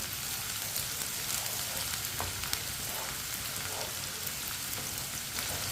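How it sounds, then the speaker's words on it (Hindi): Finely chopped onion and garlic cloves fry in a pan with a steady, soft sizzle and occasional light crackles and stirring clinks, close and even throughout. "एक बारीक कटा हुआ प्याज, थोड़ी सी लहसुन की कलियां डाल लेंगे। इसे भी दोनों चीज़ों को 2-3 मिनट के लिए पका लेंगे,"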